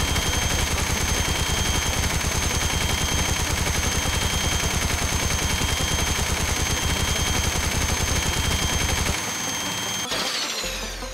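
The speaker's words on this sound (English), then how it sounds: "And now, the last of the machine guns. The Auto Peacemaker from Pixel Gun 3D." The Auto Peacemaker machine gun in the VR game Blade and Sorcery Nomad fires a long unbroken burst of rapid shots for about nine seconds. The burst stops abruptly and a brief mechanical rattle follows.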